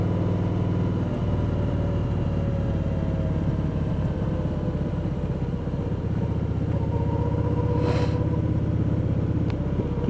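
Steady, close engine drone of a vehicle taking corners, holding a constant mid-range rumble with slight shifts in pitch and no talking.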